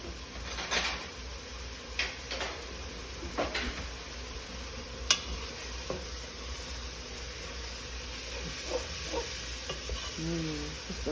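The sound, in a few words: chili with ground beef cooking and being stirred in a pot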